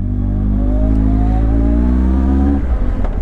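Yamaha XJR1300 motorcycle with a baffle-free carbon exhaust revving, a loud, close engine roar that climbs in pitch and then drops off abruptly near the end.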